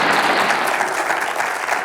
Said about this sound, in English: How about a big round of applause for the top 10 Halloween pet